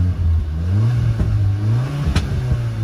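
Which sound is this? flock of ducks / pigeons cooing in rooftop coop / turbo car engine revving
turbo car engine revving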